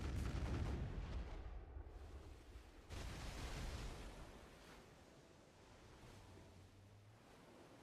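Naval cannon fire in a sea battle game, two heavy booming blasts a few seconds apart with rolling low rumble decaying after each, then quieter wash-like background.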